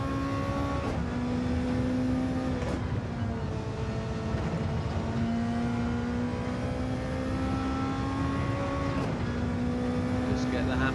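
A Lexus RC F GT500 race car engine in Gran Turismo 7 at Spa drones loudly and continuously, its pitch climbing through gears with repeated shifts, under a commentator's voice.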